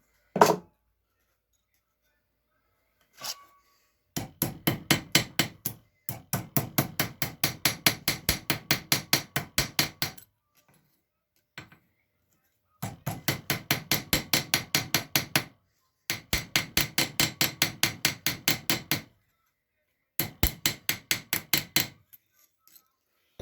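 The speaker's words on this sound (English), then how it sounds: "But I gotta pound it out now that I get it there. Make it a little thinner" Hammer pounding heated metal flat for handmade jewelry, rapid rhythmic bursts of sharp ringing strikes separated by pauses, close and loud, with no speech.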